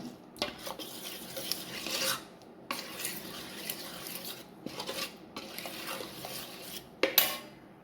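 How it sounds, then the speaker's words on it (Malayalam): A spoon scrapes and stirs against a metal bowl in repeated rasping strokes, mixing unniyappam batter with salt, with brief pauses between bursts of mixing, close and fairly quiet. "ഇനി ഇതൊന്ന് നന്നായി മിക്സ് ചെയ്യാം"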